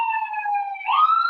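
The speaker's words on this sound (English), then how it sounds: "There's a siren going by, if you can hear." An emergency vehicle siren passes outside, a loud wailing tone that slides slightly downward and then sweeps back up, heard alone and fairly near for just over a second.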